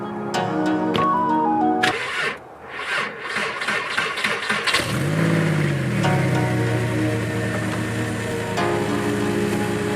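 A car engine cranks and sputters for a few seconds before catching and settling into a steady running idle, heard close up without speech.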